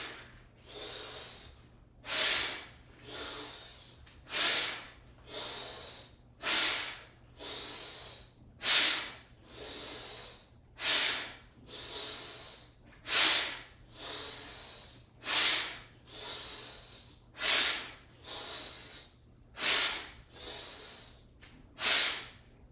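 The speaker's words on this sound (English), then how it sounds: "you breathing in through your mouth, breathing out through your nose" Qigong breathing practice: a steady series of about fifteen strong, airy breaths in and out through mouth and nose, each a rushing hiss a second or so long, evenly spaced and close, with no talking.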